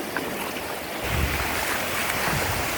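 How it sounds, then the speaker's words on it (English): Atlantic Ocean surf rolling onto Tybee beach, a steady broadband wash of waves with wind buffeting the microphone, swelling slightly louder after the first second and continuing with no talk. "But there's the Atlantic Ocean, folks."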